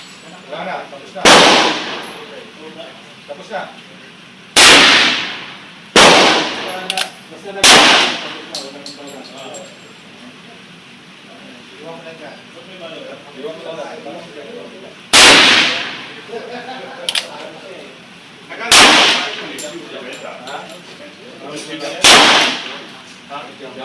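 Ruger Super Blackhawk long-barrel .44 Magnum revolver fires 240-grain jacketed soft points at a range, about eight loud, sharp shots spaced unevenly over the span, with people talking quietly between them.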